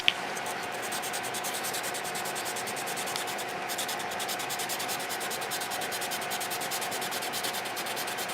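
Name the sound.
sanding vinyl decal on acrylic sign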